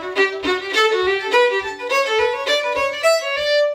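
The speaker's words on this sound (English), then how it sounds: "332 is a bowing pattern that low-key changed my fiddling life" A lively fiddle reel played solo with 3-3-2 bowing, bright bowed notes with a lilting, accented pulse driving steadily forward.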